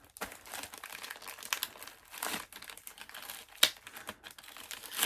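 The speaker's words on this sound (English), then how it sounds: "Let me just take it out of the plastic so you can see it." A comic book being slid out of its protective plastic sleeve, giving a close series of crinkling, rustling plastic sounds with a few sharper crackles, heard alone without talk.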